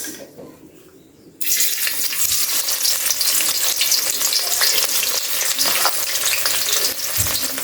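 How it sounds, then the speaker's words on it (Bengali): Onions drop into hot oil in a pan and start to fry. A quiet moment gives way to a sudden loud, steady sizzle that crackles on without pause. "পেঁয়াজটা একটু ভাজতে থাকি"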